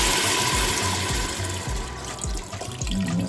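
Milk poured into a seafood boil pot with seasoned pepper already added: a steady liquid splash and gurgle, close and moderately loud, with soft low bubbling pulses running through it.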